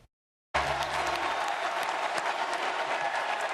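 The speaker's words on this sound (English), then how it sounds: "the United Center crowd showered former President Barack Obama, a native Chicagoan, with applause" Crowd at the United Center in Chicago applauding former President Barack Obama at the Democratic National Convention, a sudden, loud, sustained wall of clapping after a brief silence.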